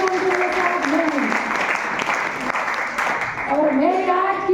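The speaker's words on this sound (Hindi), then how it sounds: "मेरे गुरु के लिए आप जोर से ताली बजाओ" Loud, dense applause from a large audience at a grand celebration program in Udaipur, Rajasthan, sustained steadily for several seconds with a few faint voices underneath.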